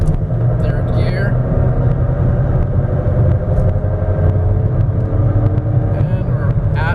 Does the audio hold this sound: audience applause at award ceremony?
no